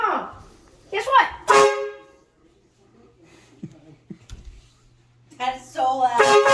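A homemade train horn built around a Dewalt power-tool battery blasts indoors at home in short, loud bursts close by, one early and another near the end, mixed with excited voices and quiet stretches between.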